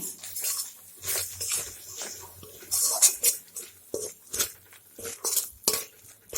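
A metal spoon stirs cumin, chili and coriander powder together in a pan for a cauliflower dalna, giving irregular close scraping and clinking strokes with short pauses between them.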